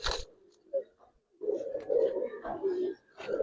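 Giribaz pigeons cooing close by, a few soft low throaty coos repeating in short bursts with brief pauses, a voice briefly present.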